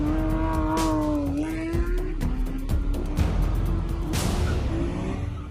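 Luxury cars racing dangerously at high speed on a federal highway, engines revving and shifting pitch with tyre noise and a car whooshing past, loud and close throughout.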